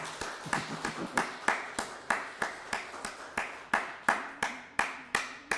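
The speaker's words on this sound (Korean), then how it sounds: "박수 한번 합시다" A church congregation claps together in a steady, evenly spaced rhythm, about two sharp claps per second, moderately near and fairly loud with no talking over it.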